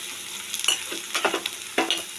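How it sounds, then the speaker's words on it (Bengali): Onions fry in a pan with a steady close sizzle while a spoon stirs them, giving a few quick scraping strokes over the hiss. "পেঁয়াজটা আমার প্রায় ভাজা হয়ে গেছে"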